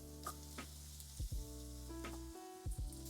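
Shallots and Brussels sprouts sizzle in olive oil over gentle heat, a soft steady hiss broken by a few clinks and scrapes of stirring, with no talk.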